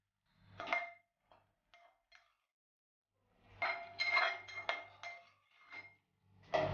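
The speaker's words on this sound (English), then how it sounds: "And stir all of them for a few minutes till the tomatoes are very well blended into the vegetables." A spoon stirs vegetables with tomatoes and coriander leaves in a cooking pot for Sindhi potato and lotus-stem curry, giving intermittent scraping clinks in short bursts separated by pauses, close and clear with no talk.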